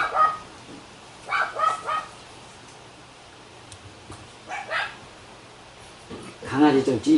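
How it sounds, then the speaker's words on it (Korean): A small dog barks indoors in short clusters of two or three yips at the start, in the middle and at the end. The barks are moderately loud against a quiet room. "강아지 조용 좀 시키고 와요."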